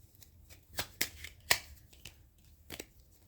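Rider-Waite tarot cards being shuffled by hand in several short, crisp riffles and snaps, fairly quiet and close, with no talking over them.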